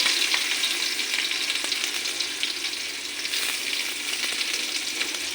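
Finely chopped onions fry in hot oil with a continuous, dense, close sizzle and faint scattered stirring clicks, without any voices.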